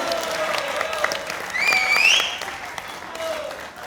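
Studio audience applause on a Pakistani talk show, a brief burst of clapping and crowd noise that swells in the middle under a bright synthetic sound effect before easing off.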